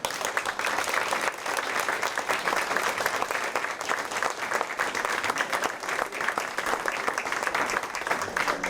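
An audience at a candidates' night applauds the candidates, a steady, even wash of many hands clapping that holds throughout at moderate volume.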